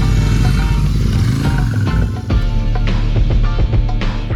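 A Royal Enfield Super Meteor 650 cruiser motorcycle engine hums loud and steady while cruising, with a brief dip and a few mechanical clicks and knocks over the running engine.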